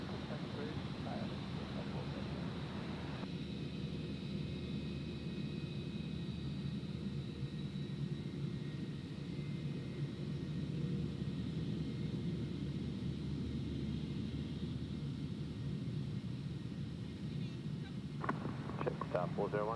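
A jet aircraft at Gold Coast Airport produces a steady, distant engine roar and whine that holds evenly, while radio chatter and voices occasionally cut in over it.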